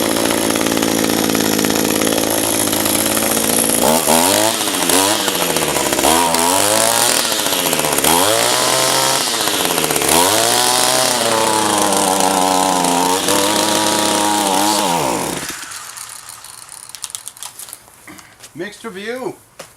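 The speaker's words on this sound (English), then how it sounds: "I'm going to do a little more weed whacking." An Echo string trimmer fitted with a knock-off carburetor runs loud and close, its two-stroke engine revving up and down in repeated surges as it whacks weeds, then cutting off near the end, leaving quieter rustling.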